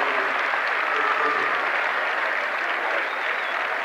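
A Vincennes home crowd at a high school basketball sectional final gives a senior who fouled out a standing ovation: steady, dense applause and cheering fills the gym throughout, loud and unbroken.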